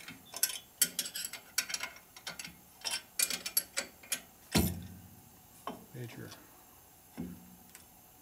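Valve adjusters on a 1965 Harley panhead 74ci FLH motor being loosened with a ratcheting wrench: quick bursts of close ratchet clicks and metallic ticks, with a sharper clank partway through and a voice talking intermittently.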